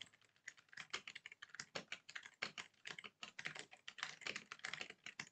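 Rapid, steady typing on a clacky mechanical keyboard, close up, with crisp overlapping keystrokes and no talking.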